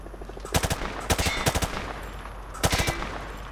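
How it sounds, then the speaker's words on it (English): A rifle fires from the hip at range targets in Call of Duty MW2, with several quick bursts of loud, close automatic gunfire separated by short gaps. "He sprayed bullets all over the damn place"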